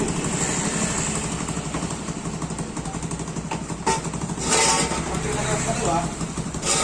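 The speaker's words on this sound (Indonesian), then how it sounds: "Oke, motornya sudah stabil lagi." A motorcycle engine with a fuel pump that often jams idles with a steady mid-pitched putter while people talk over it; a couple of brief knocks and hisses punctuate the hum.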